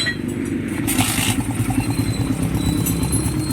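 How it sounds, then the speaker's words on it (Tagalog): Motorcycle engine idling close by with a steady, throbbing putter and slight ticking clatter, loud and continuous without talk. "Ito yung tunog ng makina ni sir."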